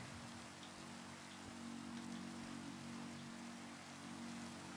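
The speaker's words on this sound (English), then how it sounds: "It is raining." Steady rain in Minecraft, a faint continuous hiss of falling drops with a low hum beneath, unbroken and without talk.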